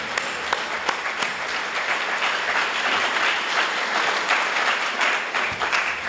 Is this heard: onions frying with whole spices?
no